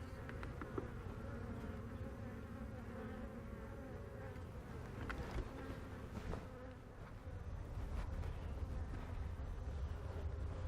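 A small honeybee swarm hums steadily during a transfer from frames into a new hive, a dense continuous buzzing of many bees close by with no talk.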